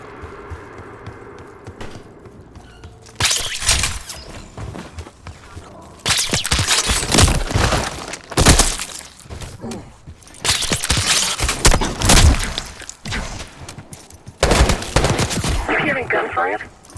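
Gunfire from Call of Duty Black Ops 6: several loud bursts of automatic fire in clusters separated by quieter stretches, with sharp single shots, movement sounds and brief voices between.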